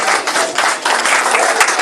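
Loud, close clapping from a small gathering at a cultural center rewards the kids. The claps are uneven and bursty, with brief dips between flurries.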